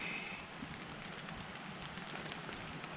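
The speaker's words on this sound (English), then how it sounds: "It started to rain and the wind's picking up" Steady rain falls on a campsite tent before dawn as the wind picks up, a constant broadband hiss of drops with no distinct individual hits, no voices.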